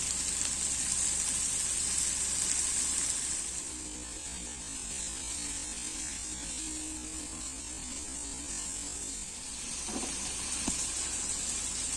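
Chicken frying with olive oil in a pan for a tossed salad gives a steady, soft, hissing sizzle, with low background hum and a couple of faint clinks near the end.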